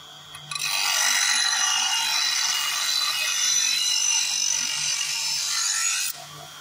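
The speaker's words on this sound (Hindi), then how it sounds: "हल्का सा ग्राइंड करना और तुरंत उसका बेवलिंग करना।" Portable hand grinding and bevelling machine working a piece of glass, a loud steady high-pitched whine of abrasive on glass running continuously for several seconds, then cutting off.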